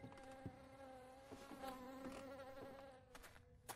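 Flies buzz steadily around a dead dog in the video game Silent Hill Downpour, a faint, continuous droning hum with no talking.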